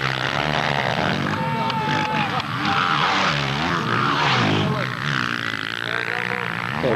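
An official Yamaha motocross bike in an MX1 race at Lierop in 2007 screams at full throttle, a loud, steady engine roar that fills the scene with continuous commentary talk over it.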